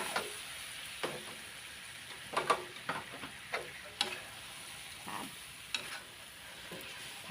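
Thin rice noodles for pad thai stir-fried in a pan, with a steady low sizzle broken by repeated scraping and clinking strokes of a spatula at an uneven rhythm, close and fairly quiet.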